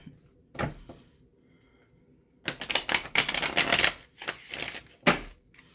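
Quick bursts of tarot card shuffling, a short riffle followed by a longer, denser flurry of papery flicks and a final snap, close and fairly loud.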